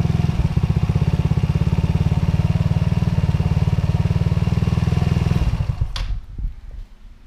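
A go-kart 150 engine runs just after starting, a loud, steady, rapid putter at close range that holds evenly for about five seconds, then falters and dies away into quieter clatter.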